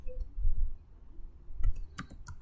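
Keyboard keypresses for a save shortcut, a quick series of crisp clicks bunched in the second half over a low background rumble, close by.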